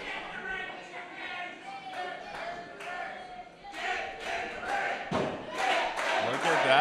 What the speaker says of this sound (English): The crowd is chanting, get in the ring.